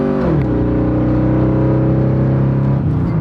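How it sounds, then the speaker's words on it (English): An old police car with nearly 200,000 miles revs its engine, a loud steady low drone that swoops up in pitch at the start and drops again near the end, heard close and alone. "Listen, what do you hear? Nothing but the engine."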